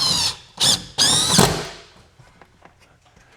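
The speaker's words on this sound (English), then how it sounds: "now Greg, let's go ahead and drill the hole for the line set" Power drill boring a hole through exterior wall sheathing for a Mr Cool DIY air conditioner line set, three loud whining bursts in quick succession, then a fading rattle and a few light knocks.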